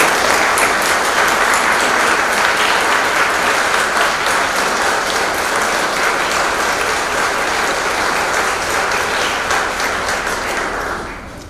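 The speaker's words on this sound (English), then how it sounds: "let us applaud the class of 2018 for our great accomplishments" A graduation audience at Catholic University applauds the class of 2018, loud sustained clapping from a large crowd that fills the room and holds steady before tapering slightly at the end.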